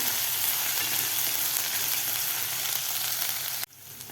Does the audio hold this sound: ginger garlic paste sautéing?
yes